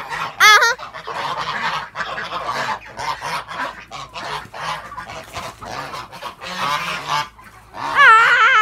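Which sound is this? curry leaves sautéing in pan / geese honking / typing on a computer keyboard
geese honking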